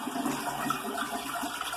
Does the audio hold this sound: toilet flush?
yes